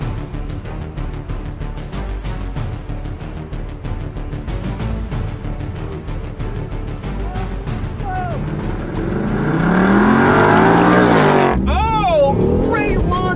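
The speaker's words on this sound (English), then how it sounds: "Oh, great launch of the i8. Actually shifts super hard." BMW i8 hybrid launching hard in a drag race against a Mustang GT, engine roaring and swelling louder toward the end with sharp gear shifts, loud and continuous under excited voices.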